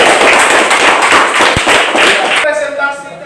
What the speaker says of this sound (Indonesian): Oke, mari kita tepuk tangan.